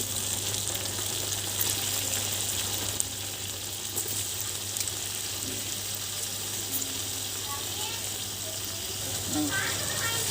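Green chillies and tomatoes fry in a pan with a steady, close sizzle and occasional stirring clinks, continuing under a person talking.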